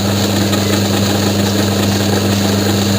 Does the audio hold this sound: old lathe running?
yes